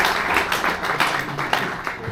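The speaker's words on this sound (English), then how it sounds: "Would you just give her a round of applause?" An audience applauds at a small Bowie event in Cleveland, with steady, dense clapping that fills the room the whole time.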